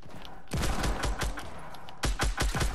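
Gunfire in a video game: rapid bursts of automatic shots in two volleys, loud and close, with brief echoing tails between them and no talk.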